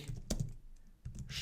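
Several quick keystrokes on a computer keyboard come in two short bursts as a German answer is typed, close and clear with no speech.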